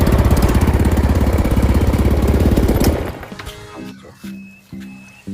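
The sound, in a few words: small engine running, air pumping fuel through fuel cock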